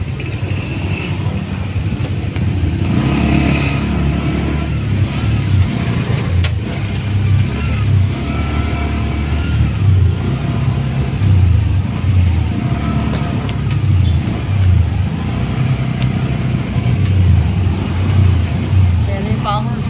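Dense traffic crawls along the Antipolo zigzag road, with a continuous rumble of car engines and road noise throughout, heard from inside a vehicle while people talk.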